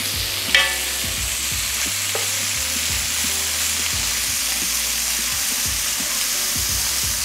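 Thinly sliced marinated meat added to a frying pan, sizzling steadily and close with a continuous hiss, plus occasional scraping and stirring knocks.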